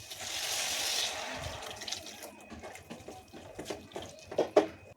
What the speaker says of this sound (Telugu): ఒక గ్లాస్ నీళ్ళు పోసుకుంటున్నాం